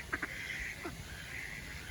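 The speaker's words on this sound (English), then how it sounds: "Look, Carrie, they're English ducks." A few short, nasal quacks from ducks on the grounds of an English castle, near but modest in volume over steady outdoor background noise.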